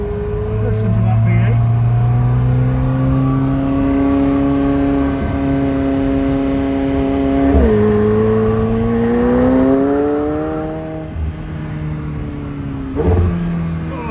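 A McLaren 720S V8 engine revs hard and close, its droning pitch rising steadily and then dipping abruptly at gear shifts before pulling up again.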